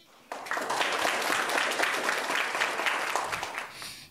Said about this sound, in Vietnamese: xin mời vị cho một tràng pháo tay chào đón quán quân bông lúa vàng 2020